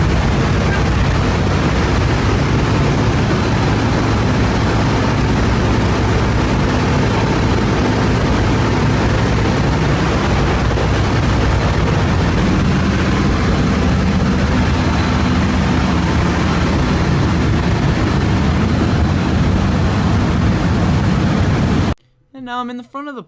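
Four Pratt & Whitney engines of a B-17 bomber in flight, heard from inside the plane near the bomb bay as a loud, steady, unbroken roaring drone that cuts off abruptly at the end, followed by a brief voice.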